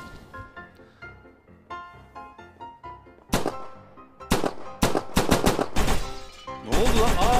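Several sharp gunshots ring out in a video game, starting as isolated bangs and then tightening into rapid bursts of fire toward the end, with background game sounds earlier and no speech.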